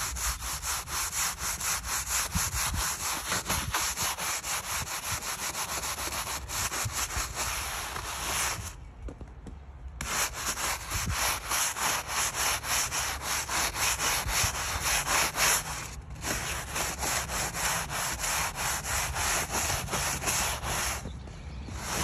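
A Polywood plastic table is scrubbed clean with rapid, rhythmic back-and-forth rubbing strokes, close and fairly loud. Short pauses break up the steady scrubbing.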